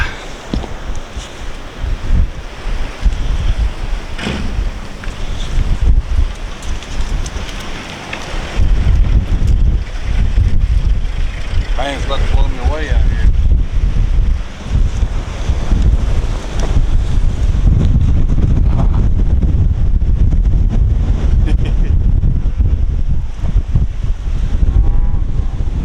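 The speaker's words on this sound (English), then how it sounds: "It's windy out here." Strong wind buffets the microphone continuously in loud, roaring gusts, with rustling outdoor noise underneath.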